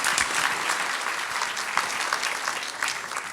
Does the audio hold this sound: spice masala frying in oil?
no